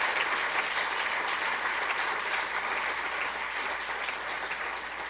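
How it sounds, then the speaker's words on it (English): An audience at a law lecture in Saskatchewan applauds steadily, a dense, even wash of many hands clapping throughout at constant loudness, with no voices over it. "Let's have a round of applause for all those folks"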